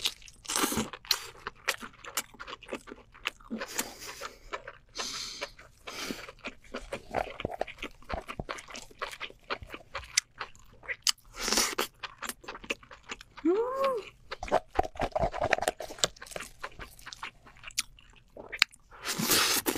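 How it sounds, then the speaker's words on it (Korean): Close-up eating of a giant king lobster dipped in its own innards: wet crunching, biting and chewing in repeated bursts, with a brief vocal murmur partway through. "여기 내장을 찍어 먹을게요."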